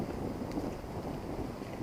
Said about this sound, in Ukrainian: Вітер шумить, краплини дощу падають